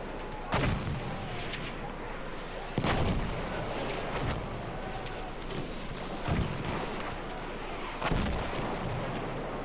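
Mortar fire during a 20 vs 20 Conquest match in Battlefield 1, with four heavy booming blasts at irregular intervals over a constant rumbling battlefield background.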